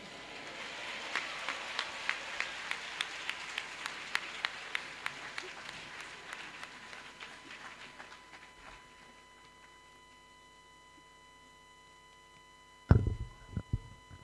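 Audience applause at a university special congregation and commissioning ceremony, a broad patter of many hands that fades out over several seconds, followed by a brief loud knock near the end.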